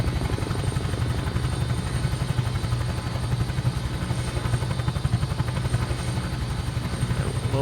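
A Huey helicopter in Microsoft Flight Simulator, with a steady thumping rotor beat and engine whine running continuously at an even, loud level.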